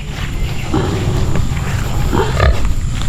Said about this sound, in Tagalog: isang inahing baboy at ito naman isa pang buntis